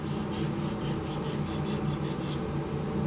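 Coarse sandpaper rubs against a large turned hollow wooden globe ornament in a steady, rhythmic rasping scrub, close and continuous with no talking.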